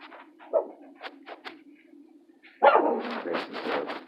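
A dog barks in short, close bursts, a few sharp yips followed by a louder cluster of barks.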